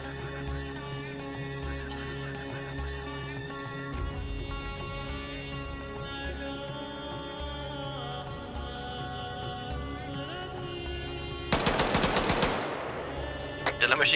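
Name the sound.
machine gun fire in the video game Arma 3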